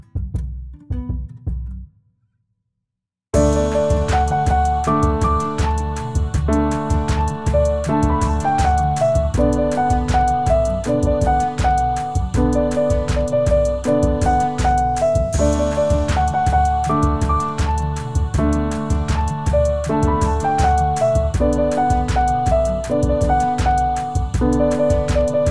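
A piano plays the chorus of a song in an intermediate-level arrangement, with steady rhythmic chords and melody running close and loud after a brief quiet start, with no talking.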